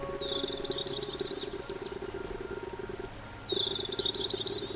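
A frog croaks repeatedly in Aveyond 4, with a steady pulsing call running throughout, backed by high chirping bursts at the start and again near the end over a soft ambient bed.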